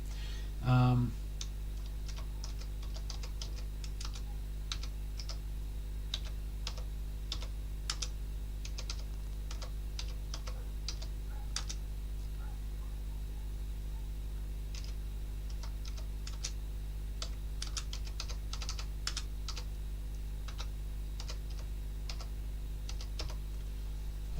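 Quick, irregular clicks of typing on a computer keyboard keep going throughout, close and quiet over a steady low electrical hum, with a brief voice near the start.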